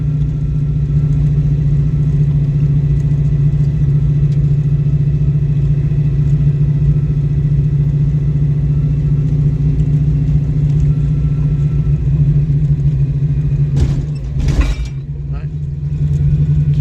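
A Ford Mustang engine idles and runs at low speed as a learner driver creeps along in second gear, its steady low drone continuous and close throughout, with a brief burst of clatter near the end.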